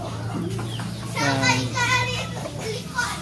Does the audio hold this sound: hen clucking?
yes